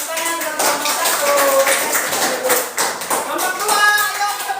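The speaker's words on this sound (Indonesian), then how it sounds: "Oke, tepuk tangan untuk kelompok 1." Schoolchildren in a classroom clap for a group that has just finished presenting; loose, uneven clapping close by, with some taps and thumps mixed in and classroom chatter underneath.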